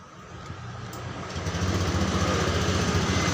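A Honda Beat Street scooter with a fuel-injection fault starts and runs, a close buzzy light engine that settles into a steady, slightly louder idle, with no talking.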